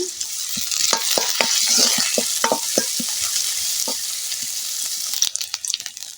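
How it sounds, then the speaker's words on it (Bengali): Chopped onion frying lightly in two spoons of oil, a bright continuous sizzle close by with irregular ticks and taps of a spatula stirring the pan, no talking. "দু চামচ পরিমাণ তেল দিয়ে দিলাম দিয়ে দিচ্ছি একটা পেঁয়াজ কুচি এটা কি করে কেটে নিয়েছি হালকা একটু ভেজে নেবো"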